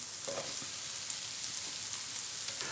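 Sliced white button mushrooms sizzle steadily in a hot pan, a continuous close frying hiss with faint crackles and no voices.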